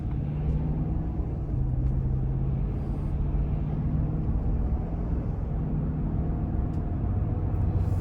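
A 2021 Chevrolet Suburban High Country with the 6.2 liter V8 drives along, giving a steady low cabin rumble of engine and road noise throughout, with no talking.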